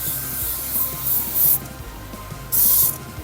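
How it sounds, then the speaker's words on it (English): Foam upholstery cleaner sprayed onto car seats in two loud hissing bursts, with quieter rubbing and handling sounds between them. "just spray it on all the upholstery inside"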